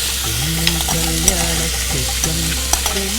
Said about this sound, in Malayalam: അപ്പോൾ ആദ്യം നെയ്യ് ഒഴിച്ചിട്ട് കടലപ്പരിപ്പും കദളിപ്പഴവും കൂടി ഇട്ട് നമുക്കൊന്ന് മിക്സ് ചെയ്യാം